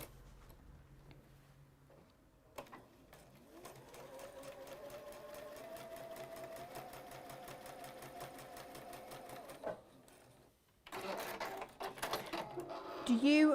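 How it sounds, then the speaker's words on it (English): A sewing machine stitches a quarter-inch seam on a quilt block, running steadily for about seven seconds at a fairly even speed, with quieter handling sounds before it and clattering movement afterward. "And we sew that down."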